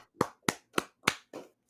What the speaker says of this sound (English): Let's give applause where applause is due.